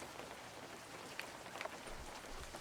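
Steady, faint rain patters down in the fishing game Webfishing, a soft continuous hiss with a few brief brighter drips scattered through it.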